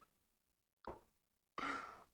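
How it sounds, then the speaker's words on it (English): A person lets out a sharp gasp that turns into a loud, breathy exhale, close to the mic. It follows a short quiet moment and a brief intake of breath. "Your gasp scared the hell out of me"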